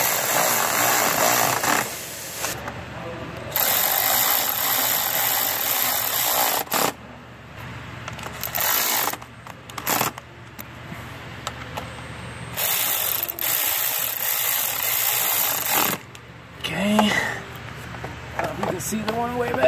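A hand ratchet tightens bolts on a 6.7 Powerstroke diesel engine while fitting a crankcase vent box filter, giving repeated bursts of rapid clicking separated by short pauses, close and fairly loud.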